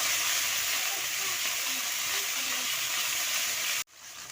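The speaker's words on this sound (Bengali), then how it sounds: "এবার আদা বাটাটা দিয়ে আর শুকনো লঙ্কা বাটা, মশলাটা ভালো করে কষিয়ে নেব।" Ginger paste and dried red chili paste being sautéed in a pan in a village kitchen, producing a loud, dense, continuous sizzle that cuts off abruptly near the end.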